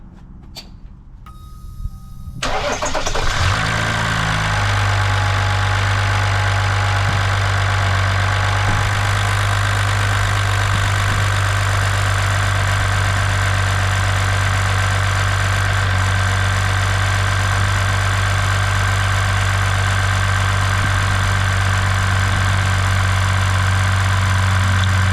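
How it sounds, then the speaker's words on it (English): A Ram EcoDiesel engine, mid thermostat replacement, cranks over and settles into a steady, loud diesel idle with a constant low hum and clatter that runs alone for the rest of the stretch. "I'm going here and crank it up so we can get the coolant to come down a little bit more."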